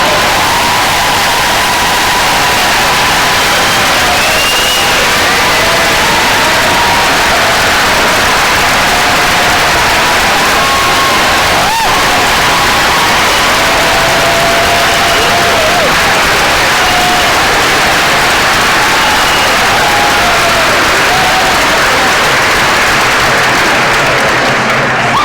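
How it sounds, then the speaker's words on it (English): A large convocation audience applauds loudly and continuously, a dense wash of clapping with scattered cheers and whistles from the crowd. "One more round of applause for Dr. Mark."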